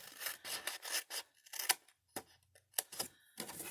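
Scissors cutting paper along a 1-inch score line for hot cocoa packets, a run of short close snips and rasping strokes with brief pauses between them.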